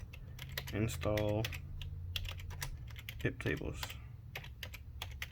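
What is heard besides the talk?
typing a command on a computer keyboard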